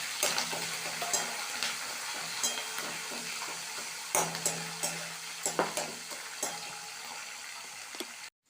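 Curry leaves sizzle in hot tempering oil with mustard seeds, urad dal and green chilies, a dense crackling fry dotted with sharp pops and spatters, close and lively, before cutting off abruptly at the end.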